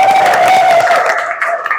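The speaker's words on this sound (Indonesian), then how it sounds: "Sekali lagi tepuk tangan." Brief applause from a classroom group during a teaching assessment session, a short burst of dense clapping with a faint steady tone underneath, thinning out toward the end.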